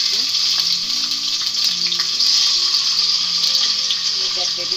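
Onion goes into three tablespoons of hot oil for a Bangladeshi-style chicken potato curry, giving a loud, close, continuous sizzle with a faint voice murmuring underneath.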